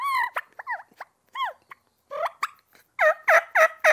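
A turkey mouth call with wet reeds blown by a hunter, giving a run of yelps and clucks: scattered single notes first, then a quick closing series of four loud, close yelps.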